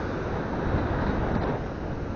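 Steady, loud wind buffeting the microphone in a continuous roar on the beach at Caister while fishing, with no other sounds standing out.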